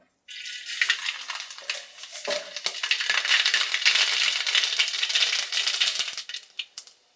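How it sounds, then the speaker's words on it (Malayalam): Mustard seeds crackle and pop in hot oil, a dense rapid spattering that builds after a brief start and tapers off near the end. "ഇതിനകത്തോട്ട് ഇനി അല്പം കടുക് ഇട്ടങ്ങോട്ട് പൊട്ടിക്കണേ"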